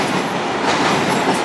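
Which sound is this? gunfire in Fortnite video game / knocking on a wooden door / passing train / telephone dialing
passing train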